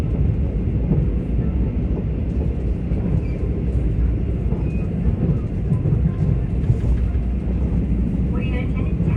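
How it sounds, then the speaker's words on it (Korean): A Mugunghwa night train runs into Busan and approaches Gupo station. Its loud, steady low rumble and rolling noise fill the whole stretch from inside the carriage, with faint higher squeals near the end. "화명역을 지나자마자 열차는 곧바로 구포역에 접근합니다."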